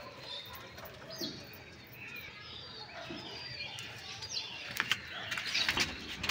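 Madras pigeons of an old bloodline, kept in a cage, give soft scattered coos and chirps over a steady hiss of room noise that grows busier toward the end.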